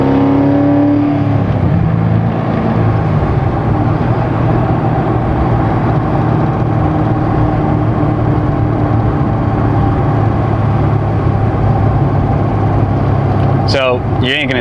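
A Corvette Z06 race car engine drones steadily while driving, a loud, continuous low roar with a brief rising whine near the start, heard from inside the car as someone talks over it.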